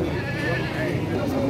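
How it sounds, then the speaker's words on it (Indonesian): Garut sheep bleating among livestock at a goat and sheep pen, with wavering bleats running continuously and fairly loud under a busy, noisy background. "Domba Garut."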